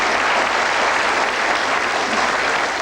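Steady, dense studio audience applause fills the whole stretch at an even loudness, a continuous wash of clapping from a television game show crowd with no voices over it.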